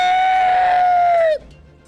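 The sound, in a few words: horrific screech of a winged black drake-like creature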